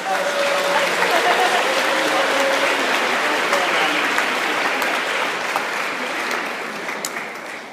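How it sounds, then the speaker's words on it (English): A conference closing-ceremony audience at UMaine gives a big, continuous round of applause, dense and steady throughout and tapering slightly at the end, with some voices mixed in. "let's give one more massive round of applause for our"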